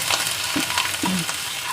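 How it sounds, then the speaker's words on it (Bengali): Ginger paste fries in a pan with hot tempering spices while being stirred, giving a soft, close sizzle broken by a few quick scraping strokes. "আদাটা দিয়ে একটু নাড়িয়ে নেব।"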